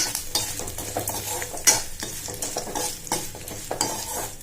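Sautéing in a frying pan for a curd-rice dish, with a spoon repeatedly stirring and scraping through sizzling food, the clatter fairly close and steady with sharper knocks at intervals, no voices.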